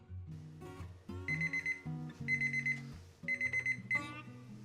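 A kitchen timer alarm sounds in repeated bursts of fast electronic beeping, clear and alone, during the baking of a crusty farmhouse loaf in a Dutch oven.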